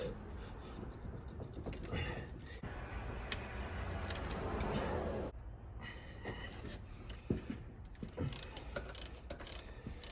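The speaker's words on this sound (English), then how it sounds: "all 4 bolts are coming out without incident" Hand ratchet clicking in short bursts as bolts are loosened on a turbocharger of a Shelby Daytona, close and fairly loud, with pauses and some background talk between runs.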